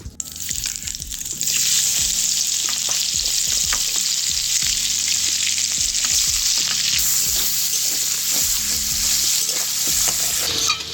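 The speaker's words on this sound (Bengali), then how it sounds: "এইবারে চিংড়ি ভাজা তেলের মধ্যে দিয়ে দেবো পেঁয়াজ কুচি।" Chopped onions hit hot oil left from frying prawns and sizzle loudly and steadily, with sharp clinks and scrapes of a spatula stirring the pan throughout.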